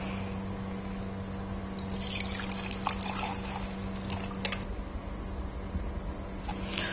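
Diesel fuel being poured into the fuel filter housing of a Peugeot 206 HDi, a faint, steady trickling flow with light splashes over a low background hum.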